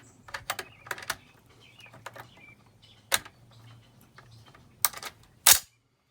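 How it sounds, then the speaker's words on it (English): Several sharp metallic clicks and clacks, then a firm slam near the end as a Gewehr 43 rifle bolt drops into place, close up with no talking. "Okay, let's drop in the bolt."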